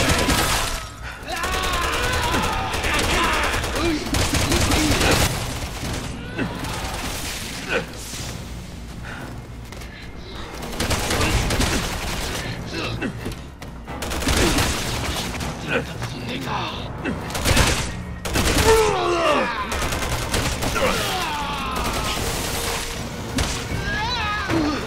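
Gunfire and shattering impacts in the Resident Evil 6 Chris and Piers campaign, loud repeated bursts and crashes throughout, mixed with game music and voices talking.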